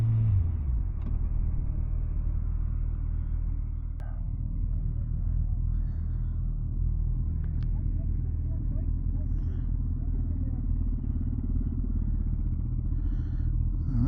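A 2024 Suzuki Hayabusa motorcycle engine idling with a deep, steady low rumble, close and continuous, with faint clicks and light rattles over it.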